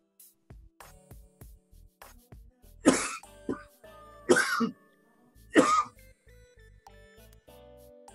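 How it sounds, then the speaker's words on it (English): A man coughs in three loud, harsh bursts spaced a second or so apart, with quieter clicks and small sounds between them. "You over there coughing like a man."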